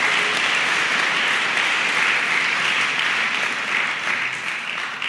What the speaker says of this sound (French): Applaudissez fort pour les enfants qui ont fait la chorégraphie.